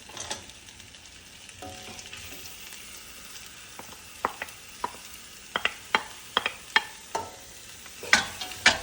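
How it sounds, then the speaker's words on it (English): Onion and mixed vegetables frying with rice in a pan, a soft steady sizzle under a run of sharp clinks and scrapes from stirring that grow busier toward the end. "Now I'm going to add the onion and the mixed vegetable."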